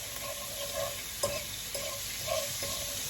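Lamb chops sizzle steadily in a pan, a constant close frying hiss broken by a few soft scraping clicks, with no talking.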